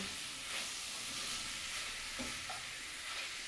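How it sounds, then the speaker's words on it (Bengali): Masala with cashews and tomato fries in a pan, giving a steady, hissing sizzle that fills the clip at a moderate level, with a soft stirring scrape near the end and no speech. "এবার মশলাটাকে ভালো করে কষিয়ে নেব।"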